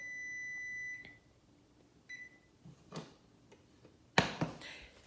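A kitchen timer beeps steadily for about a second, beeps briefly again near the two-second mark, then gives scattered ticks and a louder clatter of clicks toward the end, all fairly close with no talking.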